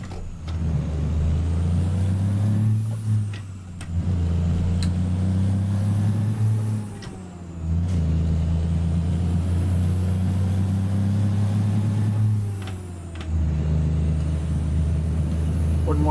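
A truck pulling a trailer through a tight turn in a trucking simulator game, a loud steady diesel engine drone that rises and falls in pitch as it shifts and accelerates, with brief dips between gears and no talk.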